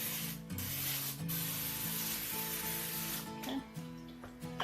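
Zero-calorie cooking oil sprayed over chickpeas in a series of hissing bursts, close and fairly loud, with short gaps between sprays.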